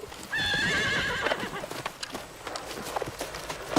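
A horse whinnies loudly near the start in a long, wavering neigh, then its hooves clop in an uneven run of thuds and knocks, close by with no talk over it.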